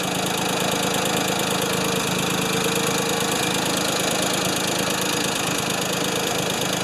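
An old Ford 2600 tractor engine idles steadily after a cold start, a loud even mechanical chug with a slight knock that continues unbroken for about seven seconds, with no talking.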